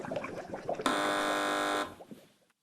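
A quiz show buzzer is pressed once, giving a loud flat electronic drone that holds for about a second and then cuts off, with faint studio murmur around it.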